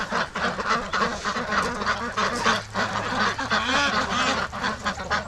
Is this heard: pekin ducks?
yes